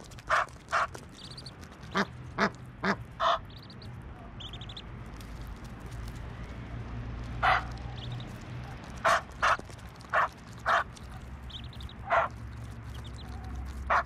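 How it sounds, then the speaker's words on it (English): Geese with their nine chicks honk near a Dutch barge home, giving short, loud calls in scattered clusters over a steady low outdoor rumble. "let me introduce you to my new neighbours, the honkers and their 9 chicks"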